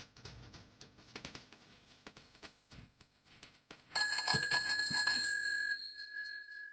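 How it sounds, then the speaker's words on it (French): In an indoor playground, after some soft clattering and handling noises, a bright metallic bell like a bicycle bell rings out and keeps ringing steadily for a couple of seconds, close and fairly loud. "Comme la sonnette de mon vélo quand j'étais jeune cow-boy."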